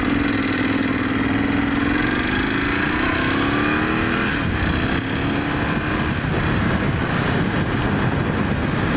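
Engine of a 2018 Ducati Scrambler 1100 pulls hard under acceleration, its rising drone loud and continuous with heavy wind rush throughout, heard up close on a demo ride and not masked by talk.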